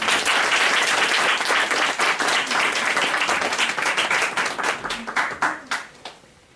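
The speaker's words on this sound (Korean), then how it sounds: "박수로 목사님 환영하도록 하겠습니다." A congregation applauding to welcome a pastor before a sermon, warm and loud sustained clapping from many people that thins and fades out over the last couple of seconds.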